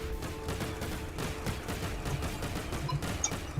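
Laser gun fire in the video game Planets³ comes as rapid, repeated zapping shots in a continuous volley, fairly loud and with no one talking over it.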